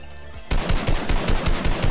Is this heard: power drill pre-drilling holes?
no